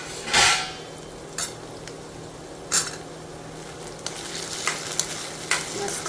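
Diced potatoes sauté in a pan for sabudana khichdi, a steady sizzle broken by a few sharp scrapes and taps of a spatula stirring against the metal, close and without talk.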